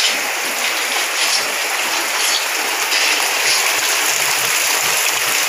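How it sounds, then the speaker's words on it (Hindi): Heavy rain pours down without a break, a loud, dense, even hiss that fills the whole stretch with no voices. "आप देख सकते हैं बारिश रुकने का नाम ही नहीं रहा है।"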